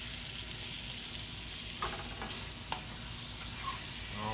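Honeycrisp apples sizzle with sugar in a hot skillet, a steady hissing fry with a few soft clicks of stirring, alone and moderately quiet.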